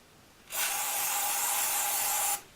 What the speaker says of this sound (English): Pre-moisten your towel. Spray it on your towel first.